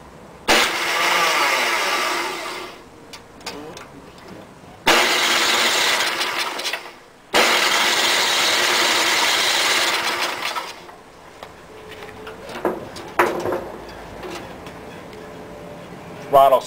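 An old Ariens engine cranks in several loud roaring bursts separated by pauses, then runs unevenly with sputters, close to the recorder, with a person talking at times.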